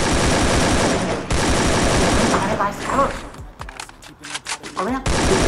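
Rapid automatic gunfire from the video game Free Fire, loud bursts filling most of the clip with a brief lull of scattered single shots near the end, under excited talk.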